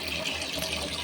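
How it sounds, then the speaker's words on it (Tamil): Tap water running and pouring into a bowl of millet being rinsed for traditional kambu koozh, a steady close splashing gush that continues without a break and with no voices. "மறுபடியும் தண்ணி போட்டுடலாம்."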